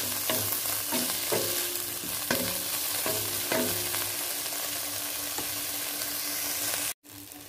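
Shrimp heads fry in a pan for tom yum stock, a loud continuous sizzle punctuated by repeated scraping stirs near the start, then a sudden brief cutoff near the end.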